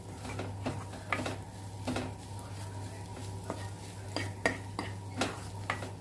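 Okra thoran with coconut being stirred in a pan: a spatula scrapes and taps at irregular intervals over a soft, low sizzle, close by and fairly quiet.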